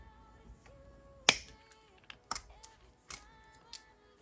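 Small wire cutters snip excess wire off a bead necklace, giving one sharp click followed by several lighter clicks and taps from handling the tools, close and quiet with no talking.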